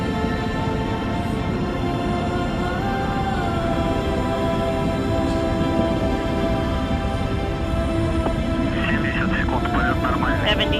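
A rocket climbs during launch to the International Space Station, a steady, dense rumbling roar that stays constant throughout, while radio voices talk over it.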